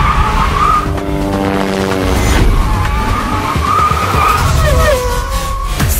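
Rally car tires squeal in a loud, sustained skid, the screech wavering in pitch over a roaring engine across several seconds.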